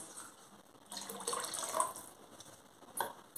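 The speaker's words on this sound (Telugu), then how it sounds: "ఇంకొక 1/2 గ్లాసు నీళ్ళు కూడా పోసుకుందాం." Water is poured into a cooking pot while making mango rasam, a soft uneven splashing and trickling with a few brighter splashes, fairly quiet and close, with no talk.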